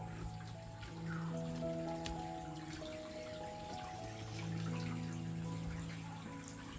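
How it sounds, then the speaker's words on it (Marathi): Water from a hot spring pool drains out through a hole in the pool wall, a steady low trickle and splash that runs continuously and fairly quietly, with no talk over it. "त्या बाहेरच्या साईडला पाणी जात आहे"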